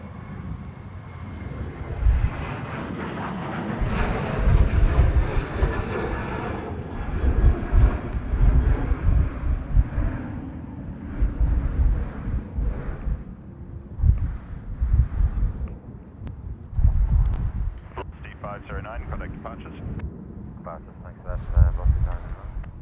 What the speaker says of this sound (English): We've got a Velocity 738 now, about to take off at runway 34